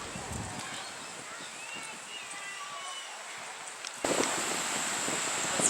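Steady wind rushes and buffets a microphone, jumping louder near the end, with faint higher tones drifting through the noise.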